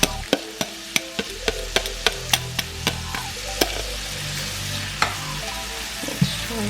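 Shrimp fry steadily in a pan for shrimp fried rice, giving a constant close sizzle broken by sharp, regular ticking pops and clicks.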